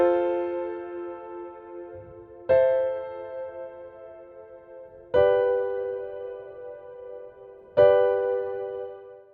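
Four sustained keyboard chords in a 4-6-5 progression played in Ableton Live, each struck cleanly and ringing out for about two and a half seconds before the next, rich and harmonic with no voices.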